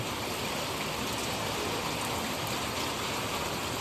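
Steady rain pours down in a continuous, even hiss, close and enveloping, with no voices or other sounds breaking through.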